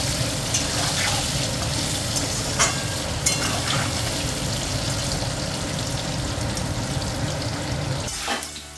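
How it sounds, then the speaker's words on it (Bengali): Potatoes coloured with turmeric frying in hot oil, a steady dense sizzle running throughout with occasional stirring clatter, close and fairly loud, no talking. "কালারের জন্য একটু হলুদ দিয়ে আলুটাকে এবার আমি লাল লাল করে একটু ভেজে নেব"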